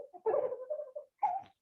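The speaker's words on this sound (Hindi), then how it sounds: "किसी के बच्चे के रोने की आवाज आ रही है" A child crying in the background of an online meeting, short whimpering wails in two bursts separated by a brief pause, moderately faint.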